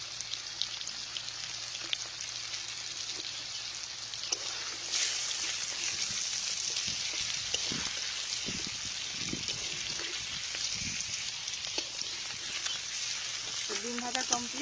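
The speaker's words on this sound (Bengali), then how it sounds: "ডিম ভাজা কমপ্লিট" Four eggs cut into pieces, seasoned with salt and turmeric, fry in a pan with a steady close sizzle and crackle throughout, punctuated by occasional stirring clicks.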